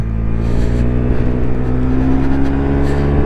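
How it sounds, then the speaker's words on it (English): A Lexmoto Nexus 125cc scooter accelerates past 50 mph: a steady, loud, close engine drone with a strong buzzing tone that holds throughout, mixed with continuous wind rush. "let's get some throttle on as we fly up past 50 miles an hour already"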